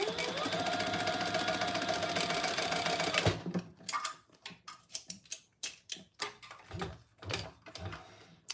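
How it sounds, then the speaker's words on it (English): Sewing machine running a test stitch, a fast continuous whirring run for about three seconds, then short bursts of stitching and clicks in uneven rhythm, close and fairly loud. "I did not test my stitching, so"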